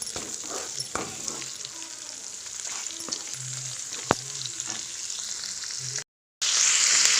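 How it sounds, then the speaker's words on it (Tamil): Mutton spleen sautés in a pan, sizzling and frying steadily with soft stirring scrapes and occasional clinks, close and fairly quiet, with a brief dropout near the end. "இப்போ இதை வந்து நல்லா வதக்கிக்கலாம்."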